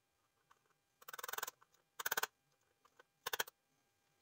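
Quick bursts of sharp, light tapping as a Black Pearl ship model part is tapped into place, three short rapid runs of knocks separated by brief pauses, close and fairly quiet.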